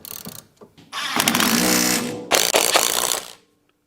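A ratchet tightens U-bolts on the leaf springs of a Robin, close and loud, in bursts of rapid clicking with short pauses between strokes.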